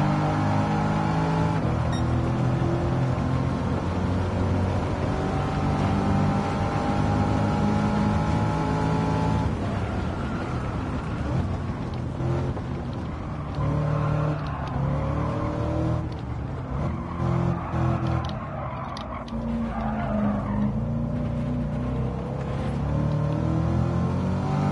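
A racing car engine in the video game Gran Turismo 7 drones loudly and continuously, its pitch rising and falling as it revs through gear changes and corners, with no talk over it.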